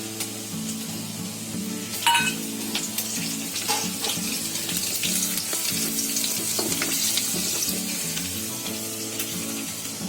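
Ginger, garlic and slit green chillies fry in hot oil in a pan, giving a steady loud sizzle with occasional stirring clatter and no talking.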